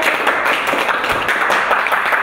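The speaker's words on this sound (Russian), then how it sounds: "Аплодисменты для вас." An audience applauds in a library hall during a Moscow library night event, dense continuous clapping, fairly loud and close, sustained throughout without a break.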